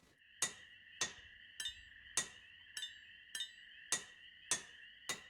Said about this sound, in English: I probably wouldn't be hammering that windshield if I was him